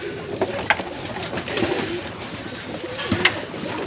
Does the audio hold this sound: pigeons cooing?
yes